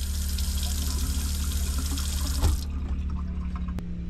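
Water runs steadily from a tap aboard a sailboat being prepped for launch, a continuous hiss that cuts off abruptly near the end, followed by quieter background noise and a single faint click.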